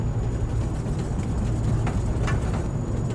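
Carenado Saab 340B twin turboprop engines taxiing in a flight simulator: a steady, dense, low droning rumble that holds at an even loudness throughout, with no talk.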